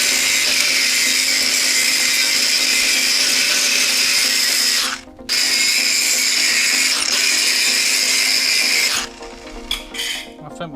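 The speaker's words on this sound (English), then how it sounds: "So I'll let it cool down, get a bit of grinding done" Loud, continuous angle grinder whine cutting back welds on a Land Rover Defender TD5 project, steady for about five seconds, a brief pause, then resuming before tailing off into scattered metallic clatter at the end.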